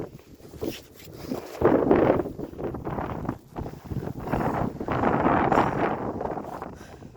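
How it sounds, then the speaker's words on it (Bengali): Strong gusts of wind roar and buffet the microphone in uneven surges, loud and close, with no clear voices, at a high, exposed spot. "খুব জোর হাওয়া দিচ্ছে।"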